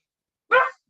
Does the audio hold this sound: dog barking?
yes